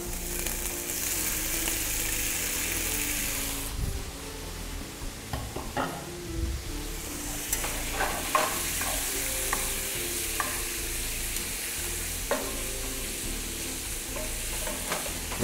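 Shrimp fry in a hot pan with ginger, a steady close sizzle and crackle running throughout, broken by scraping stirs and clinks of a utensil, with no talking.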